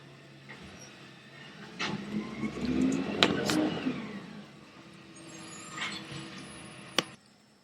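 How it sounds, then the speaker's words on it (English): A large garbage truck passing by outdoors, its engine rumble swelling and fading over several seconds with occasional clanks and a sharp bang near the end. "I had to pause there for a minute because a big garbage truck was passing"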